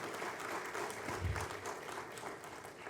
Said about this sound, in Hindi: एक बार जोरदार तालियों से आप सबों की इस सहभागिता के लिए स्वागत करती हूं।